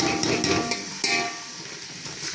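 Chopped onion fries in a spoonful of hot oil in a pan while cooking aloo baingan sabzi, giving a steady, close sizzle with a few light stirring scrapes and no voices.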